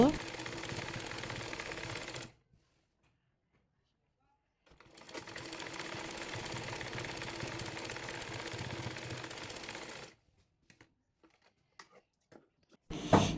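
A sewing machine stitches designed fabric onto lace for a salwar in two long steady runs of mechanical whirring, separated by a pause, followed by quieter scattered clicks and handling noises.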